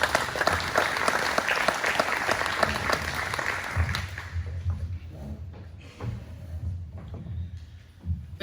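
An audience at a cooperative's 2021 annual meeting applauds warmly as a speaker steps to the podium. The full clapping lasts about four seconds, then thins into scattered claps and quiet room noise.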